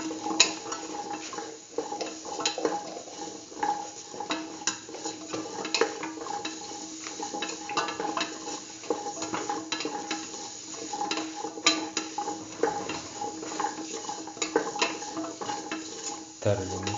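A spoon stirring a spice mixture into pumpkin pieces in a pan, with a soft ongoing sizzle and repeated scraping and light clinks against the pan.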